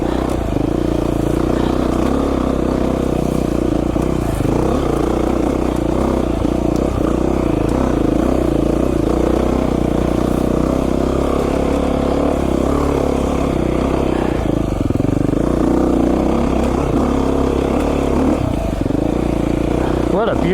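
A Beta 500 RR-S dirt bike rides tight mountain single track, its engine droning steadily and close throughout with rises in revs and clattering over rough ground, a voice talking now and then.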